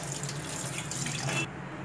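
Tap water running steadily into a sink while rinsing a copper vessel, a constant close splashing stream that shifts slightly in tone as the flow hits the metal.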